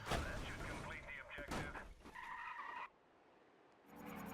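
Tires squeal and skid as a race car drifts in the racing game GRID, loud screeching bursts over engine roar that cut off abruptly near the end before quieter engine noise returns.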